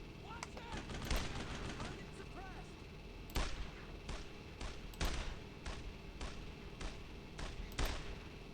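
Gunfire in the WWII shooter Brothers in Arms: Road to Hill 30: sharp, loud shots crack out irregularly, some close and some farther off, over a steady battlefield din.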